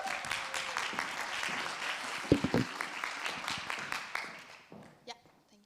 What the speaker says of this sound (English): Give her an applause too.